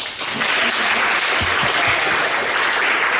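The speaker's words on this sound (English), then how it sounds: "You can clap. Go ahead." Audience applause after a talk, a dense, sustained clapping from a room full of people that starts almost at once and continues steadily to the end.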